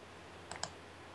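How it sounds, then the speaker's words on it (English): A couple of quick, faint clicks, like keyboard or mouse clicks, heard alone over a quiet background hum during an online podcast call. "I heard clicking."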